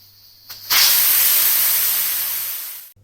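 A pressure cooker cooking split green gram and split chickpea lentils lets out a loud, continuous hiss of steam that starts abruptly and runs nearly three seconds before cutting off, over a low steady hum.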